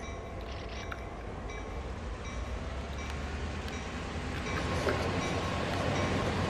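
A train being driven in Train Sim World 2, a steady rumbling run with faint rail clatter that swells slightly louder toward the end, with no talk over it.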